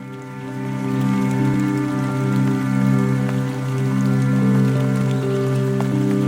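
Steady rain pattering across surfaces in the video game The Collage Atlas, a continuous even hiss of drops layered over sustained musical drones, fairly loud and unbroken.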